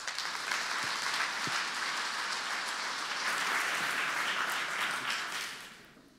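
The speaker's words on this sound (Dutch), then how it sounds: "mag ik u een groot applaus?" A large audience at the Dag van de Stad 2018 gathering claps loudly for architect Francine Houben, a thick sustained ovation that holds steady and then fades away over the last second.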